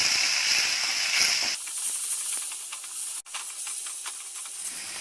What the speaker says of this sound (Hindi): अब इसमें टमाटर डाल देंगे और टमाटर को नरम होने तक पकाएंगे।